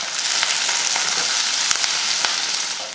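Onions and green chillies fry in hot oil with mustard seeds, urad dal and curry leaves, giving a steady, close, busy sizzle throughout.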